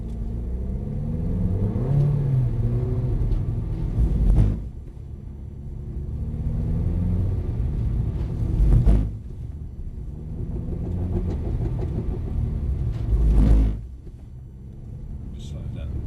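A Mercedes-AMG A45 accelerates on a driving-tuition track, its engine rising in three loud surges a few seconds apart and easing off between them, with voices in the car underneath.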